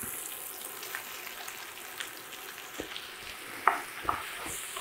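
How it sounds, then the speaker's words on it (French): Onion and mushrooms frying with half-cooked bacon pieces in a pan, a soft steady sizzle with a few light scrapes and taps of a utensil near the end, fairly quiet and without talk. "on va rajouter l'oignon et les champignons"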